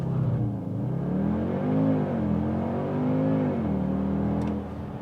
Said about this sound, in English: that is extremely quick acceleration from what is ultimately a little compact SUV